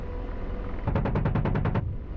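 A rapid burst of about ten evenly spaced gunshots fires at a helicopter in the combat flight game DCS World, loud and close over a steady background engine drone, with no talk.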